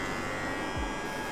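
A steady electric buzzing hum of a Koryo KGS963 body trimmer running close by, continuous and fairly quiet with no talking.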